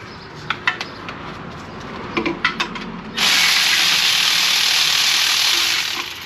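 Hand ratchet clicking on the 22 mm flex plate bolts of a BMW E34 Touring's M50 engine: a few sharp irregular ticks, then a steady bright whirring rasp from about three seconds on, close and loud.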